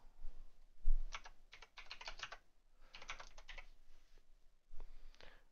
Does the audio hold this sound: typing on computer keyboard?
yes